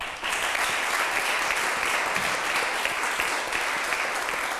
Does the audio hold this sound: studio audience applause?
yes